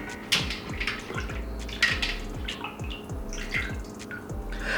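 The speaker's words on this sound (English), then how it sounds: "We're going to just drain this water just like this." Water poured off rinsed chicken in a bowl, trickling and splashing with repeated drips and light clinks of the bowl, close and fairly quiet, no talk.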